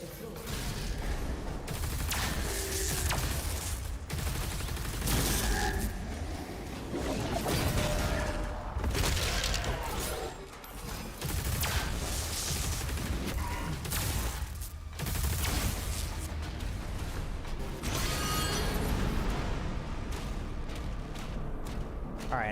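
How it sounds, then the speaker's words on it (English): Rapid, sustained energy-weapon fire from the plasma accelerator gun in DOOM: The Dark Ages, a dense stream of fast shots with whooshing bursts running nearly continuously and loud throughout. "The accelerator shoots out plasma energy at a very high rate of fire."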